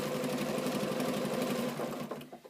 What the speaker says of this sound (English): I'm going to sew very carefully over those pins.